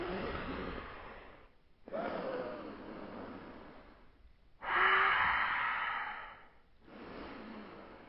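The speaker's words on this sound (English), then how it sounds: "my breathing's a bit exaggerated there" Heavy, exaggerated breaths during TRX one-arm bicep curls, each a long, loud rush of air lasting a second or two, separated by brief silent pauses, close and with no talking.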